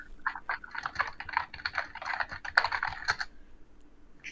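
Rapid computer keyboard typing with dense, irregular clicking close by for several seconds, ending in a few scattered keystrokes.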